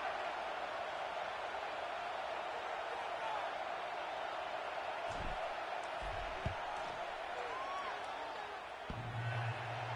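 A stadium crowd at a college football game hums in a distant, steady wash of noise as a field goal is attempted, with a few faint thumps underneath.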